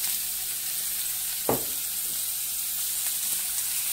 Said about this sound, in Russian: И хорошенечко обжариваем.